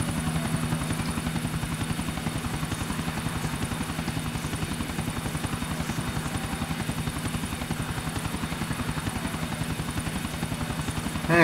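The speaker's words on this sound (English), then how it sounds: "There'll be the other chopper." Helicopter in the video game GTA IV hovering or flying close, with a steady, fast rotor chop and constant engine drone that holds evenly throughout.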